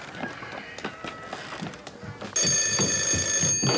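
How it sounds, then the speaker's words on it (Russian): A telephone bell starts ringing partway through, loud and continuous after a stretch of quieter room sounds and movement. "Телефон?"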